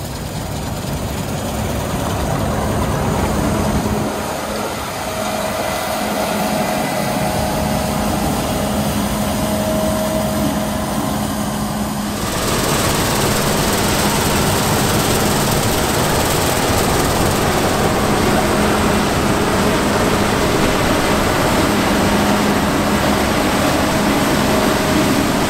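A CLAAS Lexion 8700 Terra Trac combine harvesting in a field runs with a steady, heavy engine drone and mechanical hum, loud and continuous throughout, with the tone brightening about halfway through.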